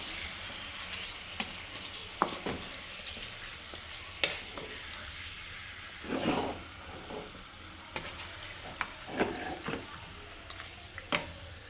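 Chicken in a pot sizzles quietly as it is stirred with rock salt, with the utensil scraping and clinking intermittently against the pot.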